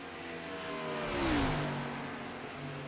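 A race car engine in a racing simulation game at Pocono, its pitch rising and swelling to a peak midway and then falling as the clutch goes in, loud and steady with no talk.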